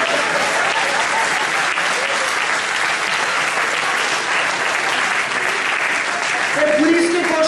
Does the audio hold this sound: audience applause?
yes